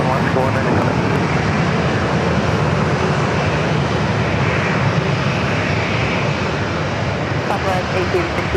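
An Alaska Airlines jet takes off at San Diego airport, a loud continuous engine roar that fills the whole stretch without letting up.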